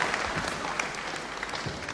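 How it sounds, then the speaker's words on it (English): Crowd applause after a wrestling bout in an arena, a dense, steady wash of clapping and noise that holds at an even level throughout this short stretch. "I'm sure Brian Crabtree will ask for a special applause here."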